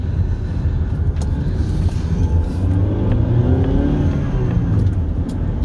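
A 2012 Ford Fusion accelerates moderately at under half throttle, its engine note climbing steadily and loud from inside the cabin, with no talking.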